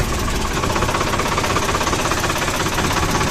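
A Farmtrac 45 tractor's diesel engine runs steadily at idle in a field ahead of millet sowing, a loud, continuous rough knocking throb that holds unbroken close by with no talking.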